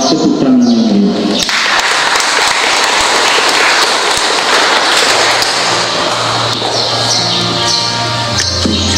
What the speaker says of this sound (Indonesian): kita nyatakan sukacita kita dalam tepuk tangan yang meriah.